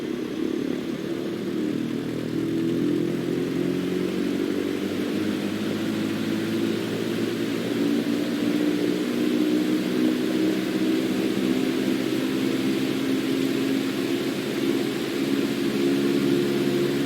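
A light airplane's piston engine at full power during the takeoff roll, a loud steady droning roar with a slowly rising pitch that continues without a break, no voices.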